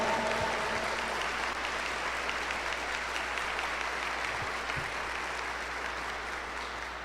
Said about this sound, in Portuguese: Dê uma salva de palmas para essa graça.